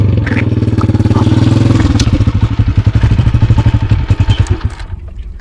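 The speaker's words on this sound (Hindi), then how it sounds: "सर लगता है एक मोटरसाइकिल आ रहा है" A motorcycle engine rumbles steadily and loud, then shifts into a rapid pulsing chug as it draws near and slows, with clattering mechanical noise and no talk over it.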